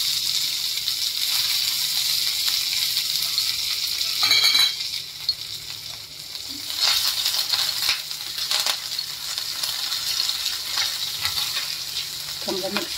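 Asafoetida, garlic and curry leaves sizzle hard in hot oil, a loud, constant frying hiss with occasional crackles and stirring scrapes throughout.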